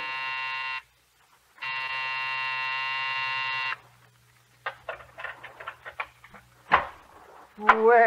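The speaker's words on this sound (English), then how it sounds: "when you pressed the night buzzer," Night buzzer of an office building as a radio drama sound effect: two harsh, close electric buzzes, then a low hum under scattered footsteps and knocks, ending with a short voice.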